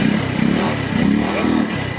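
A flooded motorcycle engine runs roughly and unevenly close by, a steady mid-pitched chug with a faint clatter and no talking.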